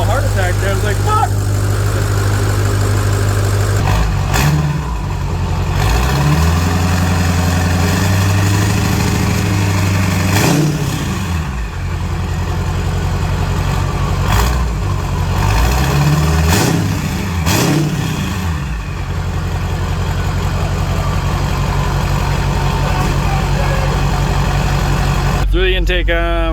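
Ford 6.0 Powerstroke diesel fitted with an S369sxe non-VGT turbo, running loud and close with a deep steady drone, revving up and down in several swells before settling back to a rumbling idle.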